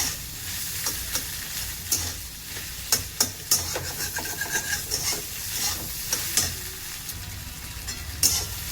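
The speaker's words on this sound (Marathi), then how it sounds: "अंड व्यवस्थित असं भाजलेलं आहे." Egg frying in a pan, a steady close sizzle with a spatula clicking and scraping against the pan at irregular moments.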